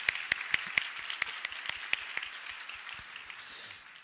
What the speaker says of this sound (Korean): 박수를 한번 보내주었으면